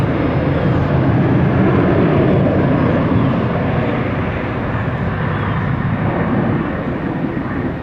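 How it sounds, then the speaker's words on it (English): An Airbus A321 airliner on the runway at Tampa airport gives off a loud, steady jet roar that holds almost level for the whole stretch and eases only slightly toward the end. "Airbus A321"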